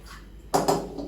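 Liquid is poured into a large wok (korai) in a home kitchen, a short loud splash and clatter in two quick bursts following a quiet moment.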